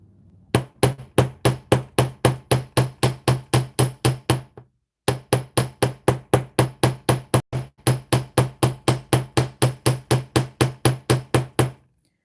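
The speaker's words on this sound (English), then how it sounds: "let's see if we hammer the crap out of it and then use this ball peen hammer" A ball peen hammer pounds craft material in a fast, even series of sharp metallic strikes, loud and close, with a brief pause partway through before the blows resume.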